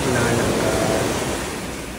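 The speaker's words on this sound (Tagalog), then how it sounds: "Ini-enjoy ang current ng alon." Ocean waves and surf at Sebay Surf Central, a surfing beach in La Union, giving a continuous loud rushing wash that slowly eases, with wind buffeting the microphone.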